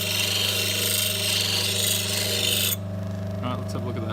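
Steel chisel being sharpened on a bench grinder, giving a loud continuous grinding rasp over a steady motor hum that drops off sharply partway through, leaving the motor whirring on.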